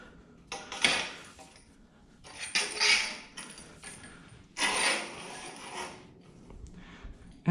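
Fittings being tightened on a DIY grow light stand, heard as several short, close bursts of metallic ratcheting and clattering separated by brief quiet gaps.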